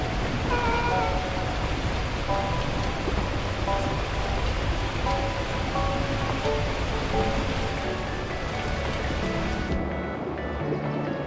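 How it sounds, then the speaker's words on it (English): Torrential rain in the video game Beacon Pines, a dense, steady roar of downpour pattering on surfaces, with a faint musical score underneath that continues unbroken until it thins near the end. "At that moment, the heavens opened up, unleashing torrential rain."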